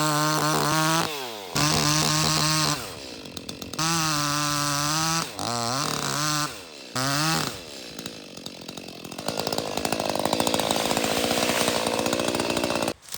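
A small ECHO chainsaw cuts down a tree, the engine revving loud and steady in repeated bursts with short idle gaps, then a rougher, grinding stretch as the chain bites through the wood.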